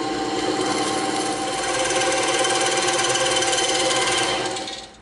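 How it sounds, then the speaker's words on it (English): A bandsaw with a tilted table cuts a bevel through EVA foam, giving a loud, continuous, buzzing whine that holds steady for several seconds before tapering off at the end of the cut. "the tops we cut on the bandsaw to have a nice bevel"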